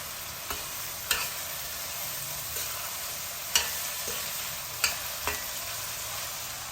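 Onions, green chillies and curry leaves frying in a pan, a constant hiss of sizzling oil with a few sharp clicks of stirring, close and steady, with no voices.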